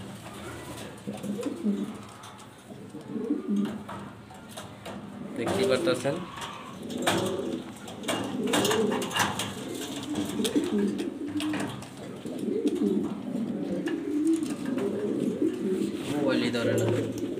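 An A-grade Maltese hen pigeon, large-bodied, gives repeated deep, burbling coos close by while someone talks over much of it.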